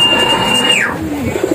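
Racing pigeons coming home in heavy rain, with steady rain hiss throughout, a long thin whistle that glides downward, then soft low cooing near the end.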